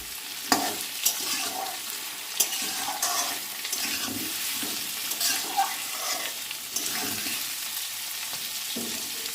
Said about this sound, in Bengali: আলু দিয়ে এখন ভাজা ভাজা করে নেব পেঁয়াজও ভাজা হয়ে যাবে আলুও ভাজা হয়ে যাবে